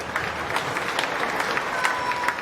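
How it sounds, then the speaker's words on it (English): Audience applause for young exhibitors at a county fair swine show, steady dense clapping from a crowd with a few louder claps rising above the wash throughout. "give those kids a nice round of applause"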